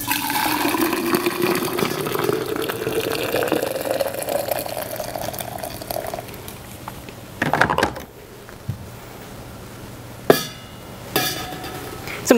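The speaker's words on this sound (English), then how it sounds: "and I'm going to heat it up using freshly boiled water" Freshly boiled water poured over a tin bar, a gurgling, rising pour that fills for several seconds, then stops, followed by a few sharp clanks and knocks of metal against a container.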